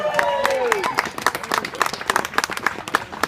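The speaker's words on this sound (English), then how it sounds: "everybody a round of applause" Brief clapping and scattered applause from a crowd at a Charlotte cycling race event, bursts of claps that thin out, heard under a speaker addressing the racers.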